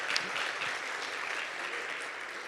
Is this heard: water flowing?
no